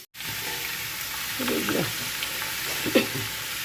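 Dried chili and bay leaf tempering sizzle steadily in hot oil, a low, even frying hiss with a few louder spatters and stirring scrapes rising briefly before settling back.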